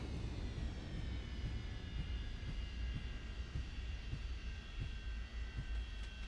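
Airliner thrust reversers roaring during landing rollout in a flight simulator, a steady loud engine rumble with whining tones layered on top, continuous throughout.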